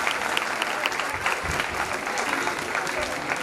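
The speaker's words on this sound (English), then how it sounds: "Can we have a big round of applause for us?" Dense, sustained applause from a crowd at a children's concert, loud and continuous throughout with no pauses.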